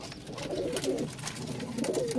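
Pet pigeons in a loft with breeding pairs and young birds coo in low, throaty bursts close by, the calls overlapping against a faint rustling background.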